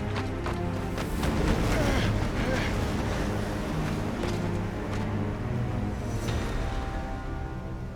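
Steady wind blowing through an outdoor scene in the game Final Fantasy XVI, a dense, continuous rush with faint creaks and rumbles beneath, while a voice occasionally talks over it.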